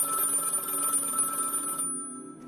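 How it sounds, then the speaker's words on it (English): A telephone rings indoors, a steady, close, moderately loud ring that continues for nearly two seconds and then stops abruptly, leaving only faint room tone. "The phone rang."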